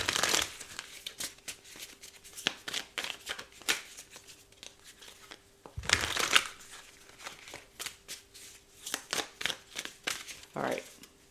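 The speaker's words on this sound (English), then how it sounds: "Can I get the top 8 cards from this deck," Tarot cards being drawn and handled from a deck, with repeated soft shuffling, sliding and snapping sounds in quick bursts and a louder flurry midway, close to the mic and under intermittent talk.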